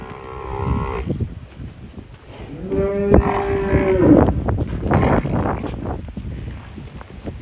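Cattle, heifers and a buffalo offered for sale on a farm low repeatedly, with one long clear moo standing out against wind and outdoor noise, close and fairly loud.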